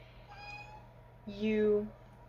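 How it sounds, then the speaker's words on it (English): A house cat lets out two meows, a short soft one followed by a louder, longer one, close by over a faint steady hum. "why are you meowing?"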